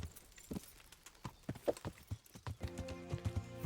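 Horse hooves clip-clop at a steady walking rhythm in the medieval game Kingdom Come Deliverance, close and moderately loud, with a low tonal drone rising in the background near the end.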